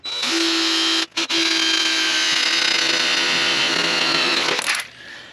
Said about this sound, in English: I'm going to use my step bit